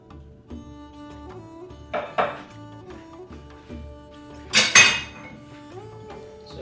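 A spoon stirs chicken marinade with cashew paste in a bowl for malai tikka, producing soft scraping and a few sharp clinks against the bowl, one louder knock near the end.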